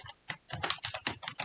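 Rapid keystrokes on a computer keyboard while code is typed, a dense run of close, crisp clicks in uneven bursts with no talking.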